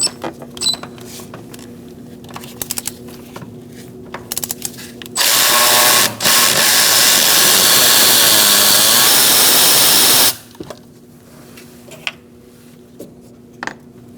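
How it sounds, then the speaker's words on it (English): A power tool, likely a cordless drill or impact driver with a 10mm socket and extension, removes bolts on a 2004-2012 Chevrolet Colorado 3.7L engine bay, running loud for about five seconds amid quieter ratchet clicks and handling noise. "Using a 10mm socket with an extension, I'm going to take out this bolt"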